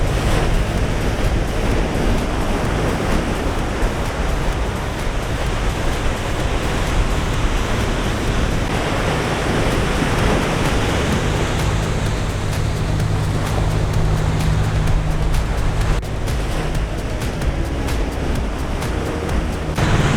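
Ocean waves roll onto a beach in Puerto Vallarta's hotel zone, making a continuous loud wash of surf with wind rumbling steadily throughout and no voices.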